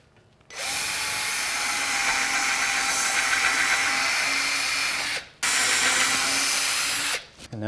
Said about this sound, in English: I've got a self-centering countersink bit that I'm going to be using on the holes